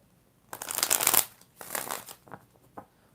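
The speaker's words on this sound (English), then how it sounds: "Four shuffles." Tarot cards are shuffled close up in a few quick riffling bursts, a long crisp rush followed by a second shorter one and a couple of light taps, with near silence between.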